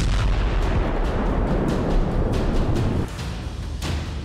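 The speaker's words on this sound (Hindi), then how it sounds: "फिर अचानक एक धमाके के साथ पूरी कार जलकर राख हो" A car struck by Ukrainian army fire explodes and burns, heard as a loud, dense, continuous roar of blast noise and rumble with no voices.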